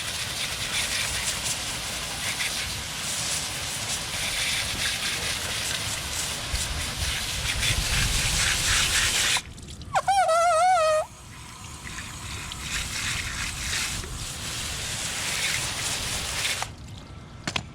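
Pressure-washer water hisses loudly as it rinses a nano coating off large car wheels, a long spray that breaks for a tonal whine, then resumes before stopping.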